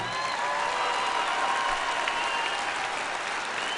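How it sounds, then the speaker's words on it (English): Steady, even applause from a large audience at a 2014 spring college commencement, a dense continuous roar of clapping heard from some distance, with no speech over it. "Please give them a round of applause as well."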